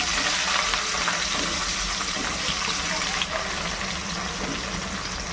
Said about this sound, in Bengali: এই গরম তেলের মধ্যে এখন দিয়ে দেব কুচনো পেঁয়াজ,